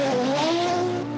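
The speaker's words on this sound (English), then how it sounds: "This is the Quattro doing what it was born to do." An Audi Quattro rally car drives hard close by, its engine note climbing in a loud, rising howl over one short burst.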